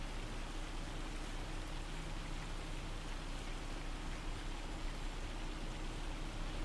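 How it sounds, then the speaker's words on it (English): A hailstorm in the video game Farming Simulator 25 makes a steady, even hiss of falling ice that holds without a break, with no one talking. "Got a hailstorm."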